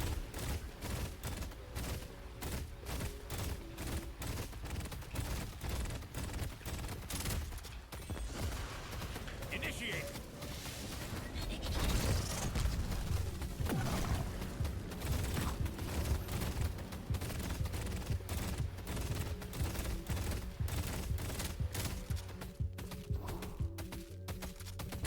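Rapid, dense gunfire from an Infernus build in the video game Deadlock, a continuous stream of quick shots lasting throughout, with a voice talking over parts of it.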